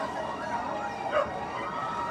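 A fire truck siren wails faintly in the distance as responders approach a fire in Parañaque, a thin wavering tone barely rising above steady outdoor background noise.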